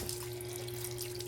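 Tap water runs steadily from a faucet fed by a newly built deep well, a continuous close splashing stream with a constant pump or pipe hum underneath.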